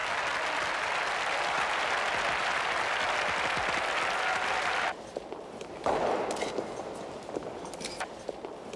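A large crowd applauds Pope John Paul II in a loud, sustained roar of clapping that cuts off abruptly, followed by a quieter resurgence of scattered clapping.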